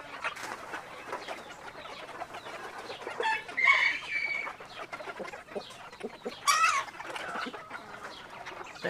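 Quail being fed, with soft continuous clucking and chirping close by, two brighter bursts of calls standing out, and no talk.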